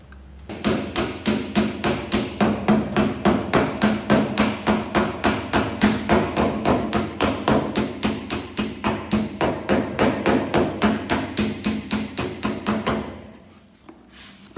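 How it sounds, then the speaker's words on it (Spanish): A hammer flattens welded car body sheet metal during patch panel repair, striking in a steady, rapid series of loud, close metallic blows for about twelve seconds before stopping. "Va acomodando la chapa, vas soldando y vas planchando despacito."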